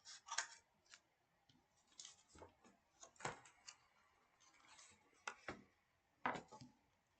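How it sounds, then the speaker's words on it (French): Scissors cut paper at an angle for a handmade zigzag mini album: a quiet, uneven series of crisp close snips and clicks spaced over several seconds, with no voices. "on va venir découper en biseau"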